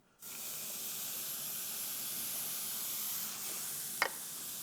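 A boerewors meatball mixture hits a hot pan and sizzles at once, a steady close hiss that holds throughout, with a brief clatter of utensil near the end and no talk.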